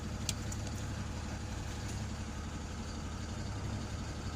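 A HIAB crane truck's engine idles with the PTO engaged, a steady low, even drone close up with a few faint clicks near the start, and no talking.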